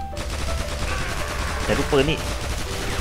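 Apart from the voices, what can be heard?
gunfire in the video game Guns Gore and Cannoli 2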